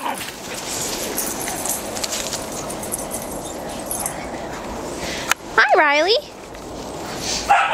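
Several dogs romp and wrestle in snow, with a brief burst of whimpering, yelping vocalizations near the end under a steady outdoor noise bed; a person speaks briefly.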